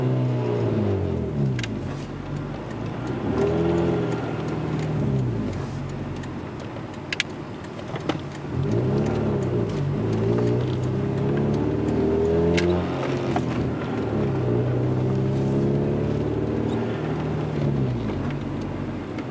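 A 2006 Nissan Sentra SE-R Spec V fitted with a wide-open-throttle box, heard from inside while driving, its engine revving up and down through repeated sweeping pulls with a steady road rumble underneath and no talking.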